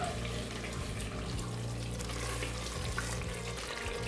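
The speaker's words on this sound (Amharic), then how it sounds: "እንዳይዝብኝ ትንሽ ውሃ ጠብ አደርጋለሁ።" Onions sautéing in a covered pan after a splash of water, a steady hissing sizzle that holds evenly throughout without talk.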